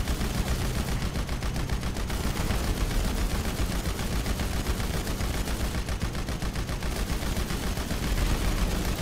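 Rapid automatic gunfire from the video game GTA 5 Online, loud dense bursts of shots running continuously throughout with no pauses.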